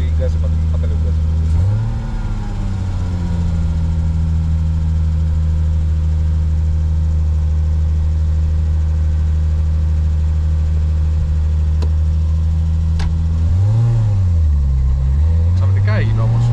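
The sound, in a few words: Toyota Supra 2JZ engine idling and revving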